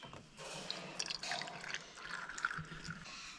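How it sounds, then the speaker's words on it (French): Demineralized water trickles and drips as it is poured into a bird egg incubator, a soft, steady liquid splash with a few brighter drips, close and fairly quiet, alone. "on va rajouter un peu d'eau déminéralisée"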